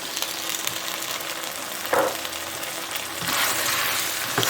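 Steady sizzle of a hot pan while cornstarch dissolved in cold water is stirred in, with a brief spoon scrape and clink, close and continuous, no talking.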